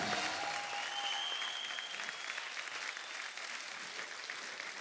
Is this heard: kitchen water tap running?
no